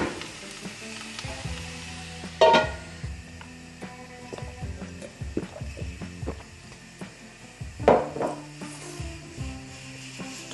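Chopped onion frying in a covered pan in a home kitchen, a steady low sizzle with occasional sharper crackles and clatter of a lid or utensil, no talking.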